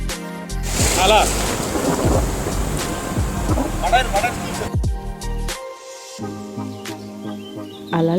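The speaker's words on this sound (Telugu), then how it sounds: "అలలు చూసారు ఎలా వస్తాయో." Sea waves rush and break at Kakinada beach in a loud, close, churning wash, while people talk over the surf.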